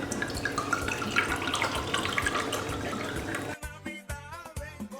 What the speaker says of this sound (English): And then we're gonna put 8 ounces of rum. We're using Bacardi, which is traditionally used.